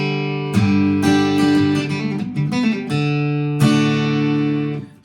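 Acoustic guitar plays a classic rock riff at a quickened tempo, bright plucked notes and chords in a steady driving rhythm with a brief pause before the figure repeats, close and clear with no talking.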